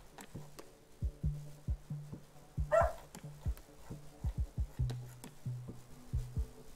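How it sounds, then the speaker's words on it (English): A dog barks again and again in a quick, uneven series of short woofs, moderately close and fairly loud, with one sharper, higher yelp in the middle and no talking. "Oh, if you hear that, that's my dog."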